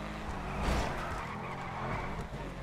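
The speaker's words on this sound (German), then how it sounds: "Oh, geiler Sound. Der ist ja nice, der Wagen." A car in GTA Online skids with squealing tires over a loud engine roar, one sustained rush that swells briefly and then holds steady, with no talking.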